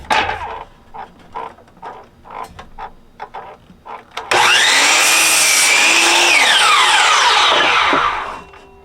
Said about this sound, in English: the first thing we're going to do is cut some 12-inch boards